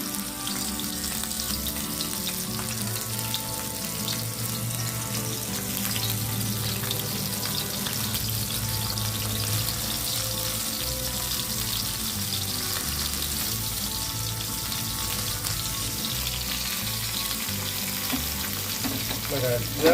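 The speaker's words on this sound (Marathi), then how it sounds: "कोटिंग केलेल्या ह्या कोळंब्या आपल्याला त्यावरती तव्यावरती ठेवायच्या आहेत आणि मग तेल हळूहळू त्या कोळंब्यांना लागेल आणि मग फ्राय होतील." Coated prawns (kolambi) frying in oil on a flat tava, a dense steady crackling sizzle that holds at an even level throughout, close up with no talk.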